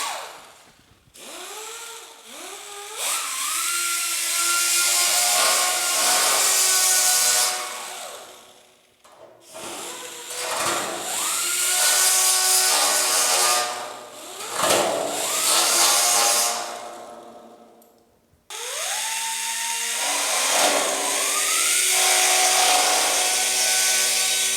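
A power tool whines loudly up to speed and cuts in three long bursts while trimming a replacement rear window channel filler panel on a rusted GM A-body car, close up with brief pauses between runs.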